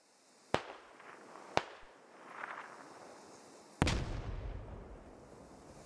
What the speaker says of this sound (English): That was a nade. Hit no one.